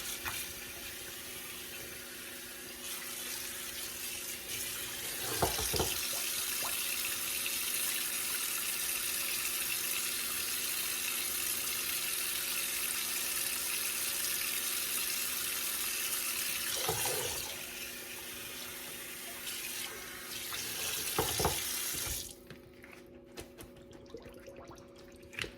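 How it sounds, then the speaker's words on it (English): Hot water running from a faucet into a kitchen sink, a steady, loud rushing stream that continues for most of the stretch, with a few clunks, before cutting off near the end. "Just put hot water in the sink real quick."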